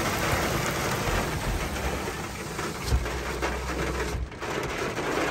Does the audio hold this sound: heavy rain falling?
yes